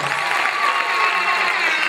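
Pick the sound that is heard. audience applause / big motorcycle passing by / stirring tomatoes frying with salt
audience applause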